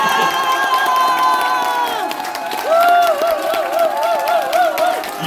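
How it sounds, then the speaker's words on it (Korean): A crowd at a political press conference for a Gangseo district head candidate cheers and shouts loudly, with voices rising in sustained whoops and calls that swell and carry on for several seconds. "여러분 한번 박수 한번 다시 경례해 주십시오"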